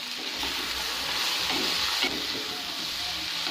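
Mixed winter vegetable bhaji with whole spices frying in a pan, a steady close sizzle with faint stirring scrapes, no one speaking.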